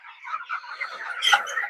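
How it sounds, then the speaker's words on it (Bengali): Twenty-day-old broiler chickens cluck and chirp softly together in a poultry house, a brief, close cluster of overlapping calls. "দেখতে পাচ্ছেন পুরো ঘরে আমরা মুরগিগুলো ছেড়ে দিচ্ছি।"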